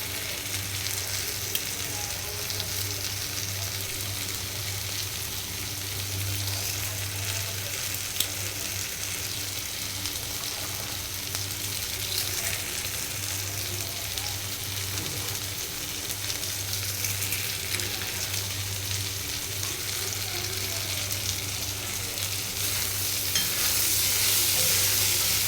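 Spinach, pumpkin and crisp lentil bori fry in a pan with a steady, even sizzle, broken by a soft scraping stir now and then, under a constant low hum.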